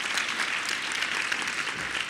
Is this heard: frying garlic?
no